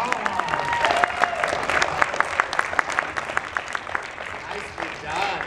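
An audience at an anime convention voice-acting workshop claps for a performer, the rhythmic, fairly close clapping rising and fading, with voices mixed in.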